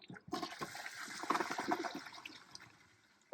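A Toto Drake toilet flushes up close, a rushing surge of water swirling down the bowl before settling into a quieter trickle as the tank refills.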